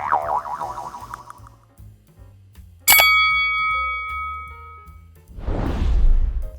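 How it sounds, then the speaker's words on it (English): A single bright bell ding, the subscribe-notification effect, rings out sharply with a ringing decay, set between a wobbling synthetic tone before and a soft whoosh after. "ring the bell to never miss an update"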